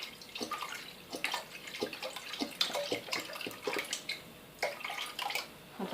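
Milk poured into a container for a layered cake, a soft continuous splashing, liquid trickle with small irregular bursts, close and fairly quiet.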